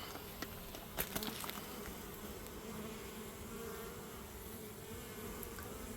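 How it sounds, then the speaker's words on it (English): Honeybees buzz around a hive in spring, a faint, continuous hum with a few brief clicks and taps near the start. "did you all see how many bees were inside there?"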